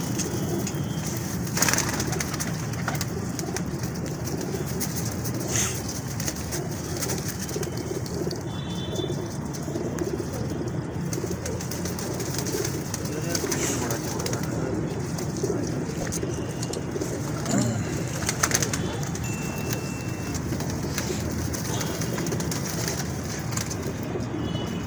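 Pigeons kept by a hobbyist cooing softly and continuously at close range in a loft, layered low murmurs with occasional wing rustles and faint background noise, no talk over them.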